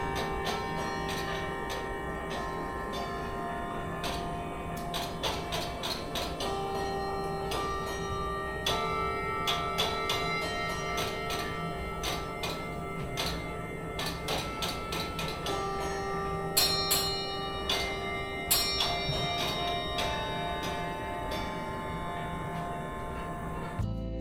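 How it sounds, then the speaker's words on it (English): The centrepiece clock in a cruise ship atrium chimes a continuous, ringing bell melody with layered tones, loud and steady, with no talk over it. "On our way through the atrium, the centrepiece clock was chiming"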